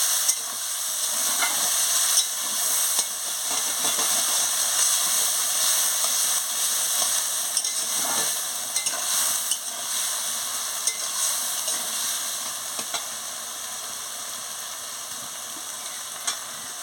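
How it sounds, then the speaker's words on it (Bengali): Poppy seed paste loosened with a little water is stirred in a cooking pan, with a continuous soft sizzle and hiss and repeated scraping strokes of the spoon running throughout, close and steady. "জল দিয়ে ভালো করে নাড়িয়ে নিচ্ছি।"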